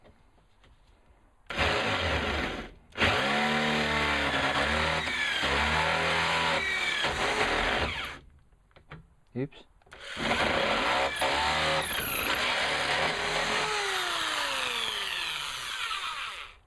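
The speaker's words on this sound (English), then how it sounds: "We'll just have to finish it off with the right size drill." A power drill bores out a pilot hole to the correct size in a switch panel, its loud whine rising and falling across several long bursts with brief pauses between them and a short spoken exclamation in the middle.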